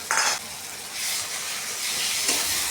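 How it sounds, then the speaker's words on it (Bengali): Chopped onions hitting hot oil with whole spices, bay leaf and black pepper, for a mirror carp fish dish: a loud close sizzle that swells and holds, with brief stirring scrapes at start and end. "কুচি করা পেঁয়াজগুলো দিয়ে দিব। হালকা নেড়েচেড়ে দিয়ে দিব রসুন বাটা, আদা বাটা আর জিরা ধনে বাটা।"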